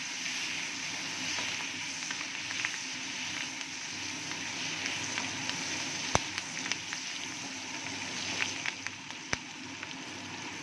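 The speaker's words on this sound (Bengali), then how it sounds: "ক্যাপসিকামগুলো আমি খুব বেশি ভাজা করব না, হালকা ভাজা করব" Sliced capsicum lightly frying in hot oil with cinnamon, cardamom and cloves for paneer butter masala, a steady soft sizzle running throughout with a couple of sharp clicks, no voices.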